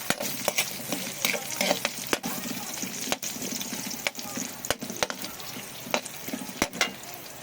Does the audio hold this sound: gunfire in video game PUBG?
no